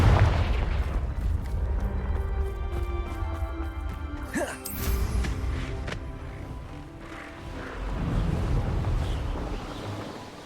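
A Confringo blasting spell explodes in the video game Hogwarts Legacy: a loud, booming blast with a rising whoosh, ringing over a dense bed of music and ambient rumble.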